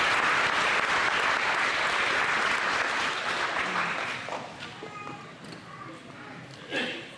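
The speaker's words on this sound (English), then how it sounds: "Let's have applause for our country." Sustained applause from a crowd at a Little Miss Hartford pageant, loud and steady at first, then gradually thinning out into scattered claps and a few voices.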